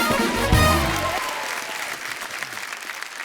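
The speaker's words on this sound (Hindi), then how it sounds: "एक बार जोरदार तालियां फरा मैम और रवीना जी के लिए" A television studio audience breaks into strong applause that peaks early and then gradually thins out, with a brief vocal sound near the start.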